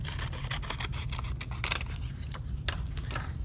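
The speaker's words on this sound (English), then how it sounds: "Then I'm going to take a yellow rectangle, cut it diagonally" Scissors snip through a yellow paper rectangle along a diagonal, a string of quick, close crisp cuts over a low steady hum.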